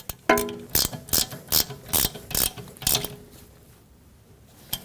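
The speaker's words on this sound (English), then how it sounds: "And we'll snug up this bolt." Ratchet clicks in a quick, even series of about eight bursts, close and clear, as a brake hose bracket bolt is snugged up on a 2014-2019 Toyota Corolla during a rear brake hose replacement, then the clicking stops.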